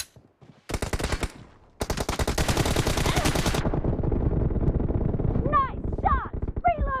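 In a 2v2 team deathmatch video game, an M416 rifle fires in loud rapid bursts, first a short volley, then a long sustained stream, followed by chirpy game effects.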